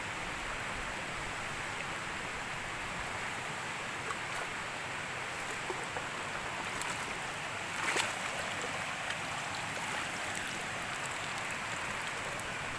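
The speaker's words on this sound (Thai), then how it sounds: "ฝนมันตกตรงนี้" Rain falls steadily outdoors near a spot used for trapping shrimp, a constant even hiss with scattered faint patters and no voices.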